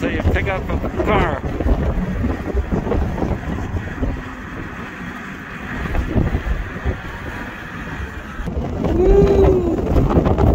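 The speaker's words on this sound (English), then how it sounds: "Freaking windy, guys." Heavy rain pours steadily on a street in Makkah in a dense, constant hiss with low rumbling underneath, occasional faint voices mixed in.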